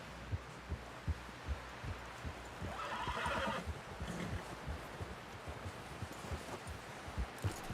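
A horse in the Red Dead Redemption 2 video game whinnies faintly amid soft hoof clops and low thumping, all quiet and somewhat distant.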